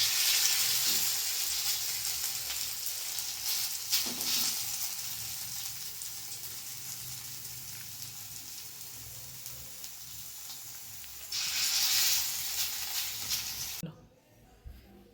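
Small mustard-flower fritters (bora) fry in hot oil with a continuous bright sizzle that swells louder near the end, then cuts off abruptly as the frying stops.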